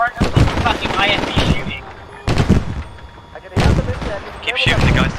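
Gunfire in the military game Arma 3 comes in loud bursts of shots separated by short pauses, with voices talking between and over the firing.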